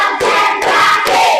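Primary-school students in an Indonesian maths lesson on fractions clap together in a steady counted pattern, three sharp group claps about half a second apart, with their voices chanting along close by.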